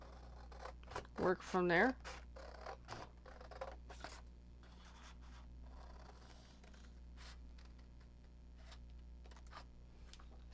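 Scissors fussy cutting paper tombstones for a Halloween card, a run of close, soft snips and scrapes with a brief voice near the start.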